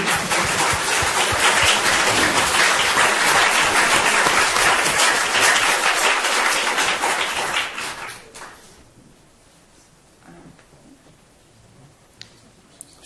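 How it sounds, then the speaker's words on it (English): Sustained, loud audience applause closes a conference panel session, then fades out over about a second, leaving near silence with a few faint sounds. "I wasn't sure if that was general applause or applause for the last comment"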